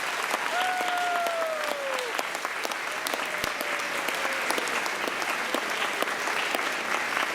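Sustained audience applause for first graders at an elementary school music showcase, steady dense clapping filling the room for several seconds, with faint voices and a brief whistle-like tone over it.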